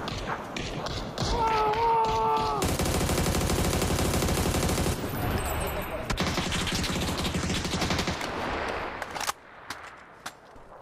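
Grenade blasts and gunfire crackle through a PUBG match in loud, dense bursts with sharp thuds, breaking off into scattered hits near the end, while players talk over the action.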